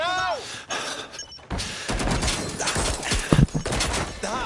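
Gunfire in the action game Watch Dogs Legion: sharp bursts of shots and impacts crack through a busy, loud scene, with a shouting voice briefly over them.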